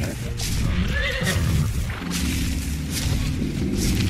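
A tamed horse in the game Ark: The Lost Island whinnies repeatedly over a dense, rumbling game background with some hoof clatter, loud and close throughout.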